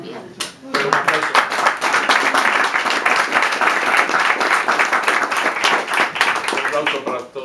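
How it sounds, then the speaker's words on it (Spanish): Audience applause at a book presentation fills the room, dense steady clapping from many hands that starts after a brief voice, with talking mixed in throughout. "Un aplauso para todos ustedes que pudieron venir"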